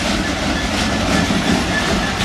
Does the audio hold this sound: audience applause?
no